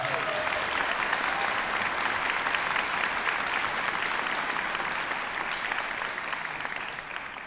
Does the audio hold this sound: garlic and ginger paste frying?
no